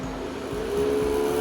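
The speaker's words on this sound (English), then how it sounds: "There we go, the vacuum is coming on." Vacuum pump of a Harvest Right freeze dryer starting up during a vacuum test, a steady droning mechanical hum with a rising tone that grows slightly louder, close and alone.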